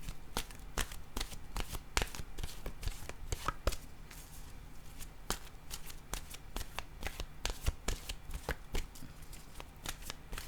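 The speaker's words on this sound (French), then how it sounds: "Je vais piger une carte de mon oracle de l'âme intuitive." Oracle cards being shuffled by hand, a quick run of sharp, crisp riffling snaps and taps close to the microphone, steady and fairly faint throughout, with no talk.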